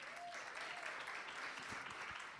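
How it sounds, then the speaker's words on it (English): A small audience at a pediatric ankle exam teaching session claps for the volunteer model, a faint, brief patter of hands. "Stand up for a round of applause for our model"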